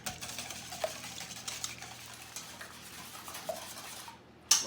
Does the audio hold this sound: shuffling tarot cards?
no